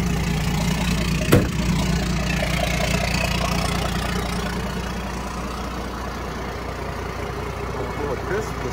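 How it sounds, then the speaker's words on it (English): A Ford truck engine idles while warming up, giving a steady, close low rumble that continues evenly throughout, with a single sharp knock early on and speech heard faintly over the idle. "Ford's warming up."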